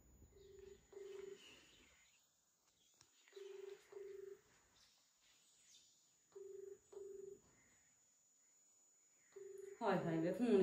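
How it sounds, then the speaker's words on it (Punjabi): A telephone keypad is dialed, with pairs of short, steady tones repeated in several groups separated by pauses, then a louder, rougher burst at the end as the call begins to ring through. "ਆਪਣੇ ਭਰਾ ਨੂੰ ਫੋਨ ਕਰਦੀ ਹਾਂ ਪਹਿਲਾਂ"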